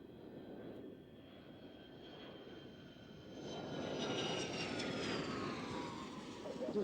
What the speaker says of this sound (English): the actual airplane itself is technically, if you're looking at it, an ultra-long-range business jet